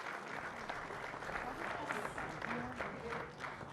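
Audience applause for a Deputy Minister at a football team's World Cup announcement event, steady broadband clapping from a sizable crowd lasting several seconds with some voices mixed in.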